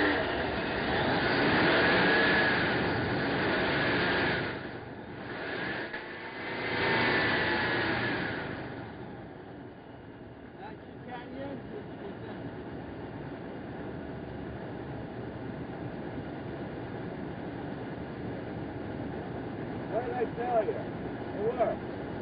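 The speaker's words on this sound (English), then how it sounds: "All right, let's start the car up." A car engine starts up and runs, a rough roaring swell that rises and falls in the first seconds, then settles into a steady idle rumble with people talking nearby.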